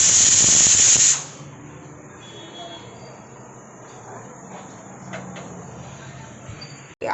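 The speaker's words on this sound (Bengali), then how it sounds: "আর প্রেসারে ডালটাকে চাপিয়ে দিয়েছি, ডালটা সেদ্ধ হচ্ছে।" A pressure cooker of lentils releases a loud, harsh burst of steam hiss for about a second, then cuts off to a faint, steady hiss and kitchen background, with a brief clunk at the very end.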